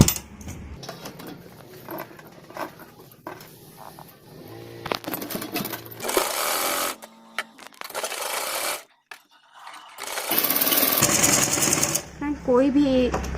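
An electric sewing machine stitches a boat-neck kurti, running in several bursts of rapid, close mechanical whirring broken by short pauses, while someone talks between and over the runs.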